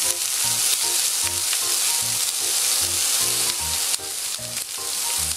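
Spiced lamb fries in a pan with a steady, close sizzle, broken by repeated stirring scrapes throughout, with no talking.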